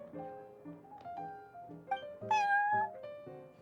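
A cat meows repeatedly at the Cat's Tail tavern in the video game Genshin Impact, a string of close, clear mews with a louder, drawn-out cry near the end, heard alone.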